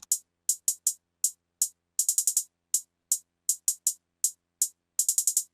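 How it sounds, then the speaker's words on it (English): An electronic build-up hi-hat pattern from a rap beat, crisp bright ticks in quick bursts and rolls, some single hits and some rapid triplet clusters, heard clean and alone. "The blue one is the like build up hat pattern basically"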